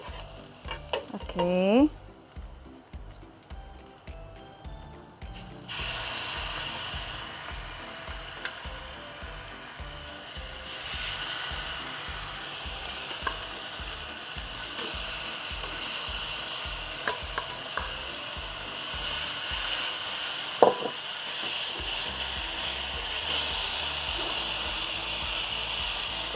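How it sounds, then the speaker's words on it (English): Pineapple pork chops sizzle loudly in a butter-greased pan, a dense, continuous frying hiss with intermittent stirring and scraping clatter close by. "Okay, we start grill the pork. I'm using butter to grease the pan."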